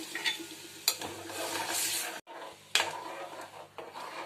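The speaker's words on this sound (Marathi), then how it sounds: "आता टाकायचं आहे ताक आणि ताक टाकल्यावर सतत हलवत राहायचं आहे" Buttermilk is stirred into okra curry in a pan, giving scraping stirring strokes over a soft bubbling sizzle, with a brief pause and then more close stirring.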